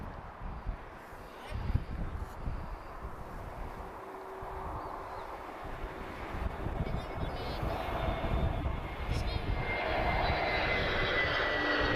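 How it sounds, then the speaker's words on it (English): A TAP Airbus A321neo in Retrojet livery arriving at Lisbon Airport from Rome, its engine roar building steadily from a distant rumble to a louder, sustained rush, with a voice talking over it. "TP833 A321 Neo. This is arriving from Rome. This is TAP's Retrojets Tango Juliet Romeo."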